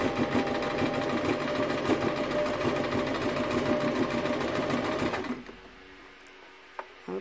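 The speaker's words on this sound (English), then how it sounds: "We're going to test out our triple 3-step zigzag stitch." A sewing machine runs fast and steadily sewing a triple three-step zigzag stitch, then stops abruptly, followed by quiet with a couple of small clicks.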